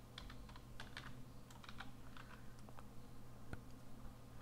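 Keys clatter on a computer keyboard as numeric values are entered into an R program, a steady run of light, quick clicks at close range with a low background hum and no talking.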